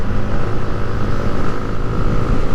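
Yamaha Sniper 155 motorcycle engine revving close by, a loud, steady buzzing drone that rises and falls slightly in strength throughout.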